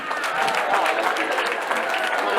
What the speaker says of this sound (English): Shall we, with a round of applause, welcome our guest speaker, Professor Anochi Mohammed Adam.